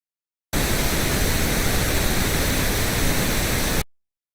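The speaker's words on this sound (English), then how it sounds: "just going to be pink noise on its own. It's going to be very loud" Pink noise test signal playing on its own, a loud, steady broadband hiss that starts abruptly, holds constant for about three seconds and cuts off cleanly, with silence on either side.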